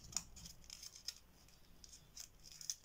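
Paper being folded into an origami frog: faint, close, crisp rustles and sharp creasing snaps come in a few quick bursts, with quiet pauses between them.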